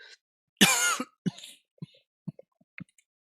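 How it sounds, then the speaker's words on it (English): A person coughs hard once, then gives several short throat-clearing coughs spaced apart, close and clear in an otherwise quiet room. "Apologize for the coughing and all that stuff."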